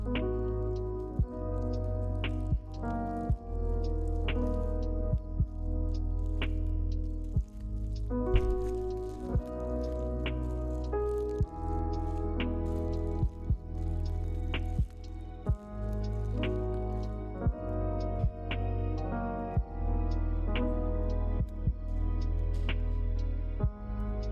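Water drips steadily, with sharp, distinct drops landing every second or two over a constant low hum.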